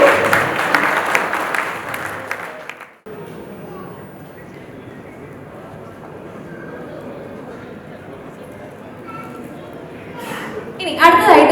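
Applause from an audience at a film title launch event, loud and dense for the first three seconds, then dropping to a low murmur of a room with voices, before clapping swells again near the end.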